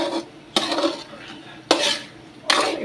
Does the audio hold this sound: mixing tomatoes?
yes